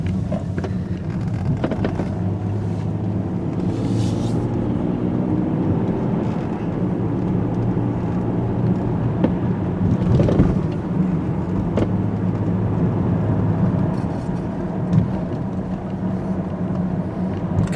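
A BMW 528i E39 on a road test, driving with a steady engine and road rumble throughout and some wind noise, rising slightly as it accelerates.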